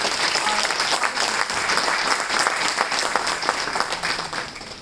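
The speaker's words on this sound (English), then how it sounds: "I would like the audience to please give one more round of applause to" A crowd applauding warmly at a National Science Day ceremony at Banaras Hindu University's Institute of Science, thick continuous clapping that holds steady and slightly fades near the end.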